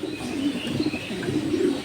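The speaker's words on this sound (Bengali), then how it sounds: "অসাধারণ কবুতর।" Pigeons in a racing loft in Tangail coo steadily in low, rolling murmurs, several birds overlapping close by with faint chirps above, continuous throughout.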